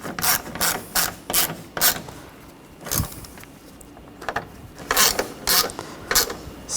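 Ratchet wrench snugging down the valve cover bolts on a 2013-2019 Ford Escape 2.0L four-cylinder, quick bursts of close clicking in short rhythmic strokes separated by brief pauses.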